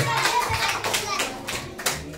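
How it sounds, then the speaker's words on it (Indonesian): Students at a school seminar clap their hands together in scattered, uneven bursts, moderately close, mixed with children's chatter and voices talking over the clapping. "Tepuk tangan dulu kawan kita yang wali."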